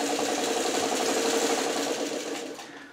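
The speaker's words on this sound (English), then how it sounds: "They're very quick to sew up because they're such short seams" A sewing machine stitches short seams on quilt half-square triangles, a close, steady rapid whirring hum for a couple of seconds that slows and fades at the end, with no talking.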